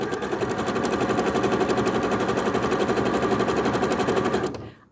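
A Babylock sewing machine stitching a zigzag seam gives a steady, rapid mechanical chatter and whir, close and loud, running evenly before stopping abruptly near the end.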